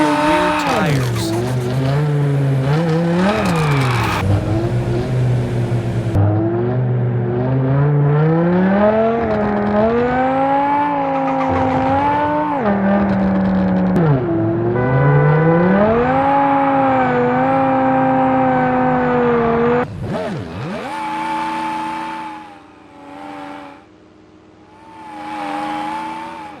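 In the video game Car Parking Multiplayer, a car drifts and spins its rear tires, with a high engine whine rising and falling over long tire squeals, then cutting out and sputtering through a few short revs near the end.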